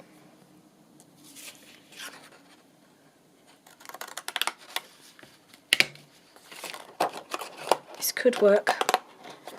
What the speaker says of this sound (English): I'm going to cut it across the top.